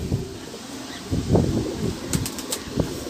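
White pigeons in a loft beat their wings in several close, soft bursts of flapping and rustling, with faint coos and light chirps behind.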